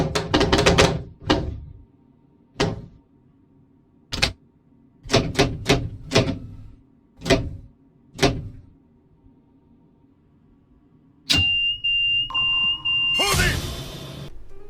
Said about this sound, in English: why is there an alarm that sounds every time I release the dead man's handle?